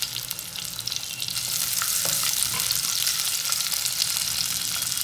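Chopped onion and green chillies frying in hot oil in a pot give off a loud, steady sizzle and crackle that holds throughout, with no voices.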